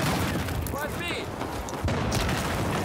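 A grenade blast in an online shooter game, heard as a muffled boom with rumbling gunfire, while players talk over the action.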